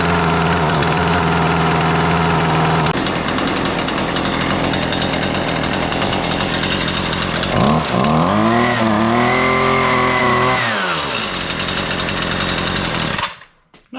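Husqvarna weed eater engine running after a carburetor replacement: a loud, close two-stroke drone that holds steady, revs up and back down, then cuts off abruptly at the end.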